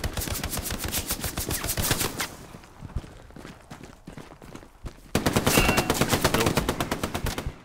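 Rapid machine gun fire in the Hell Let Loose game rattles in dense bursts, pausing briefly mid-clip before another loud, close sustained burst resumes.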